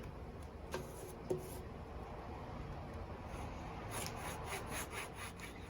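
A small tool is worked back and forth in a guitar fret slot to clear out gunk, making a faint, steady, close scraping rasp with a couple of tiny clicks and no speech.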